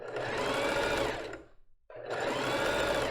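Sewing machine stitching a lace bra, a fast continuous mechanical whir running close and loud, stopping briefly for about half a second, then starting again.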